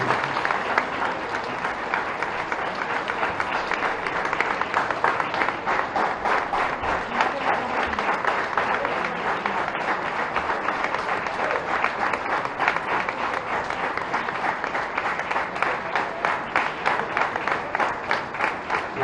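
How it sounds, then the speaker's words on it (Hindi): Loud, sustained applause from a crowd welcoming a guest onto the stage at a public event in Bhopal, steady dense clapping filling the whole stretch without letting up. "स्वागत करूंगा जोरदार तालियों के साथ"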